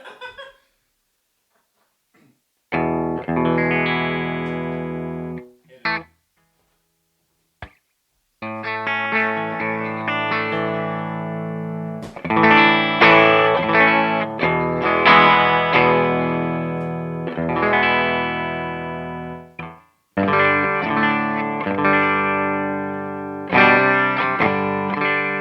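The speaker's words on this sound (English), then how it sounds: "turn that amp onto the drive channel so we can push it with this pedal and see what happens" Loud electric guitar driven through a fuzz pedal into an amp's drive channel, with thick sustained distorted chords in bursts separated by short silences, then longer ringing passages close to the amp.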